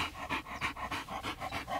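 A dog pants close by in rapid rhythmic breaths, about a dozen quick huffs in under two seconds, steady and fairly quiet.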